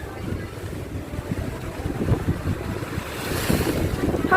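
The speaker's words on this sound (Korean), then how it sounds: "파도 엄청 쳐요." Ocean waves crash along a shore in Thailand, a continuous rushing surf mixed with wind buffeting that swells louder toward the end.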